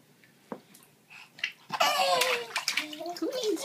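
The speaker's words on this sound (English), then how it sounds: "You splash with your hands and your feet?" A small child splashes water in a bathtub, sharp wet slaps and sloshing rising in bursts close by, mixed with the child's babbling and laughter.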